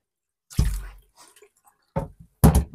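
Water emptied from water filter housings into a sink: a loud opening splash followed by faint trickles, then two more short splashy pours close by.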